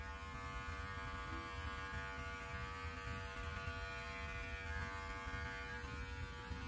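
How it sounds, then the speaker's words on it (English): Electric clippers trimming a big beard give a steady, faint, close buzz with a humming tone that runs unbroken from start to end, with no talking. "it's all in how you roll those clippers"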